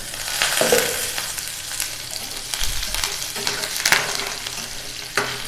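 Onions already softened to golden, frying with curry leaves and four chillies for coconut rice, a continuous sizzle broken by scraping stir strokes and occasional utensil knocks, close and alone.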